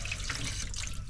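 A kitchen tap runs in a steady, continuous stream in a communal kitchen area of an anarchist compound in Chile, close and unbroken, with no voices.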